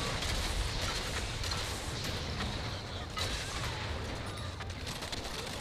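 Gunfire in the video game Evolve rattles as a continuous dense barrage with rumbling explosive thumps beneath it, loud and unbroken throughout.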